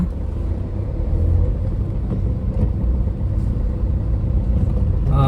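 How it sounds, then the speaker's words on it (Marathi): A red state transport bus passing on a road, a loud, close, steady low engine rumble and road roar lasting throughout. "ही आता जी लाल परी रस्त्याने आलेली आहे"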